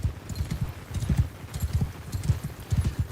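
Horses galloping in the medieval battle game Mount & Blade II: Bannerlord, a dense rapid drumming of many hooves thudding together, steady and fairly loud throughout with no talk.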